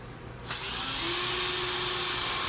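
A power drill spins up and bores a hole for mounting an Amantii View XL electric fireplace, starting with a brief whir and then holding a steady, loud, high-pitched drone.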